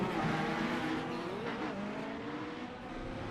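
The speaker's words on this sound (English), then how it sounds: "He's going through the S's at the moment in his Indy car." An Indy car from a racing video game winds through a set of S-curves, the engine whine rising and falling in pitch as it shifts through the bends, steady and moderately loud with no talk.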